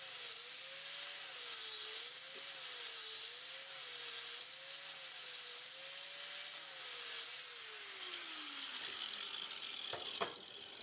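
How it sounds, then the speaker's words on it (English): A flap sanding wheel grinds the bulk material off a dovetail knife bolster, giving a steady high whine with a wavering motor tone that winds down near the end, heard up close with no talk. "the flap sanding wheel does a very quick job at this"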